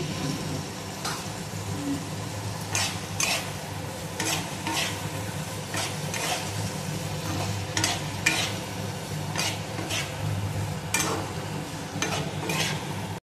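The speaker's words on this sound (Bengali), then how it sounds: "এবারে আমি এই ভাজা পেঁপে, আলু আর সোয়াবিনটা দিয়ে দিলাম।" Fried papaya, potato and soybean chunks sizzle in spiced oil, a steady frying hiss broken by repeated sharp scrapes and clinks of stirring, with no talk.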